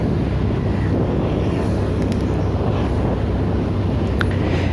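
A motorcycle riding along a busy village road, heard as constant heavy wind buffeting and low roaring rumble across the microphone, loud and unbroken, with no speech.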